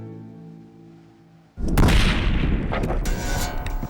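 A single rifle shot cracks loudly in windy open desert, followed by a long rolling echo across the landscape, with wind noise before the shot.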